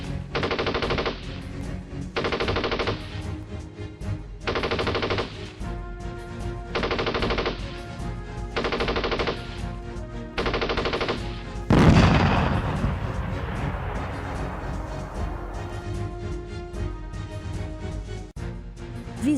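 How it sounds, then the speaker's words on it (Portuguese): Machine guns fire in repeated long bursts during a wartime battle scene, separated by short pauses, then a loud explosion from mortars or artillery booms and rumbles away beneath continued distant firing. "grupo do sargento Wolff, destacando os disparos contra seu grupo, seguido dos disparos em direção ao grupo da direita"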